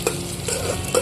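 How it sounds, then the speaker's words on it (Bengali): Potatoes fry in a pan for soybean-and-potato khichuri. The close, bright sizzle is broken by quick scraping stirs. "আগে আলুটা সুন্দর করে ভেজে নেব"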